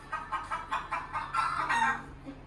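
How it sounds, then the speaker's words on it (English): Rapid run of clucking and squawking from a hen on a farm, several close, loud bursts in a row with no talk over them. "Hen."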